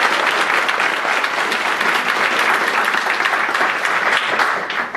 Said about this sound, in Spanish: Recibamos con un fuerte aplauso al docente Héctor Barbosa, organizador de este evento